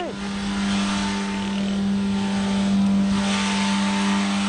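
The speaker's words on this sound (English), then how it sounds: "This clip, a runaway diesel engine." A runaway diesel engine roars at a high, sustained pitch, droning loudly and steadily without easing off, its racing note holding throughout.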